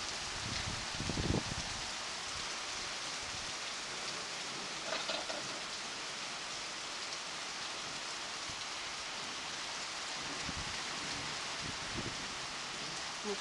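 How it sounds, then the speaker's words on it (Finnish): Steady rain from a thunderstorm patters on surfaces outdoors, a continuous hiss with occasional rustling and a few louder drips, moderately faint and with no voices. "Vesisade rupeaa loppuun."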